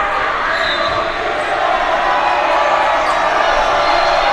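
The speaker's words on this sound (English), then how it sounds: "Hearing it from the crowd." Crowd cheering at a girls varsity high school volleyball match, a loud, sustained roar of many voices in a gym that holds steady throughout, with faint squeaks and thuds underneath.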